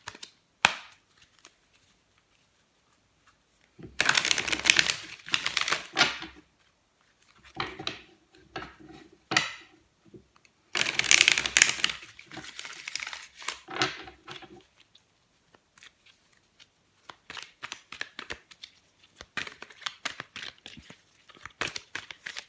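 A deck of tarot cards is shuffled and cut by hand, giving bursts of crisp papery riffling and slapping with quiet pauses between, close and fairly soft, with no talking.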